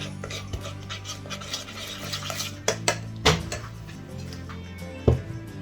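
Chocolate ice cream paste being mixed in a bowl, with steady scraping strokes and several sharper clinks of a utensil against the bowl, close and fairly loud, with no talking.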